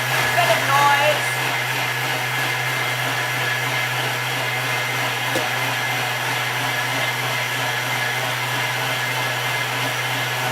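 A blender whizzes frozen berries for a breakfast smoothie, giving a steady, even whir throughout with a low hum beneath, and a brief bump at the start.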